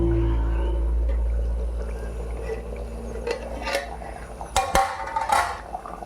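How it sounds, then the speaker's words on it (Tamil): Water poured into a pot of tamarind curry with okra, tomato and dried red chillies, a soft liquid splash with a few metallic clinks of pot and utensils near the end, heard alone close up. "இன்னும் கொஞ்சம் தண்ணி ஊற்றணும்."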